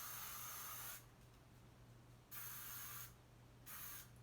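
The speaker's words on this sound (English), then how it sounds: "I'm going to spray this side." Hairspray hisses from an aerosol can in three bursts, a long one, a second after a pause and a short final puff, set against a low steady hum in a quiet room during flat iron styling.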